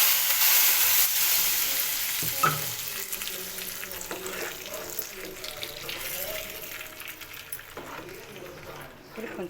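Dried red chillies tempering in hot oil for a spinach dal, a steady close sizzle that is loud at first and eases slightly, with a few clinks and stirring sounds over it.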